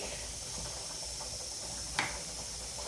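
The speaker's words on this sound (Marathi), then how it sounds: "मस्तपैकी बघा जिऱ्याची फोडणी बसलेली आहे" Cumin seeds sizzling in hot oil after mustard seeds for tempering a green moong dal curry, a steady close hiss with a brief sharper crackle near the end, no talking.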